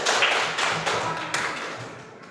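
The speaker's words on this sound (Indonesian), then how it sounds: "kembali tepuk tangan untuk kita" A class of young pupils clapping their hands together in a classroom, a dense burst of claps at close range that carries on steadily and then gradually fades over a couple of seconds.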